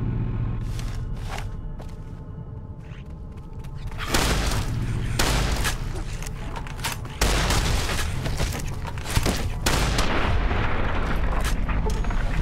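Heavy booming shots from a caravan shotgun in Fallout New Vegas blast repeatedly, loud irregular reports clustered after the fourth second over a rumbling game backdrop, with a few softer earlier hits.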